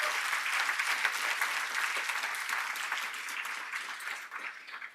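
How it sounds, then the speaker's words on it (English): Sustained applause from a forum audience, steady and full throughout with no voices standing out over the clapping. "So let's have a round of applause for Bobby Chesney, Will Imboden, and Steve S"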